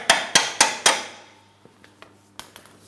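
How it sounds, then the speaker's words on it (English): Four sharp, close hammer blows ring out in steady rhythm as a bolt is knocked free from the front lower control arm of a 2003-2007 Cadillac CTS, followed by a few faint light clinks. "We'll just use a hammer, tap this out of place."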